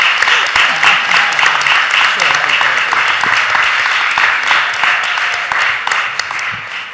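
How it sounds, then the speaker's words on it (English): Sustained applause from the audience at a city council public health committee hearing, steady dense clapping throughout that tapers slightly toward the end, with some voices mixed in. "You can give a round of applause if you want."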